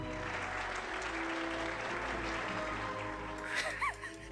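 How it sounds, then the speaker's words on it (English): Crowd applause sound effect from the video game Farthest Frontier, a steady wash of clapping with faint laughter, ending with a few brief whistle-like tones over low background music. "Everybody laughs and applauds."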